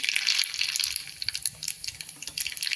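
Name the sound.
mustard seeds crackling in hot oil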